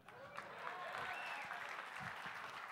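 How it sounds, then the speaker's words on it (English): A comedy club crowd at Gotham Comedy Club claps briefly but fully, a dense wash of applause heard at a distance, faint and even throughout. "so nice round of applause for me"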